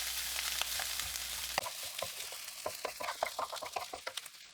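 Bacon fried rice stir-fries in a hot pan with soy sauce and oyster sauce, a steady sizzle broken by rapid scraping and tossing strokes that grow busier toward the end.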